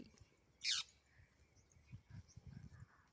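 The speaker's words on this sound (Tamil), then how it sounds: "எங்கேருந்து கத்துறீங்க சவுண்டு மட்டும் கேட்குது" A single sharp bird call rings out from somewhere high above, brief and fairly clear, over faint background murmur.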